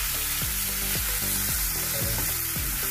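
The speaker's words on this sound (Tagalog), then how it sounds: "Lagay na natin itong ano, bawang at saka bawang at sibuyas. So, bisahin lang natin yan hanggang sa mag-fry siya." Garlic and onion fry in margarine with a steady broadband sizzle, while low tonal music with stepped notes plays continuously underneath throughout.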